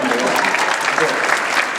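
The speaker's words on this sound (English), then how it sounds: "Let's go ahead and give that a little applause." An audience applauding, dense steady clapping that holds at an even level throughout.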